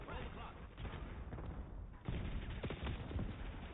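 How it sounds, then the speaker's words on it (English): Explosions and gunfire from grenades in a shooter video game, a dense barrage of thuds and blasts throughout with a sharp heavy burst midway, with speech mixed in. "Damn, grenades going everywhere."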